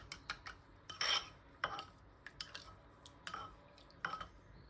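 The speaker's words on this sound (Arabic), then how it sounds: "غادي نخلطو المكونات" Ingredients for a stuffed pie dough being mixed with about half a cup of warm water in a bowl, giving quiet, irregular scrapes and clinks of a utensil against the bowl, with no one talking.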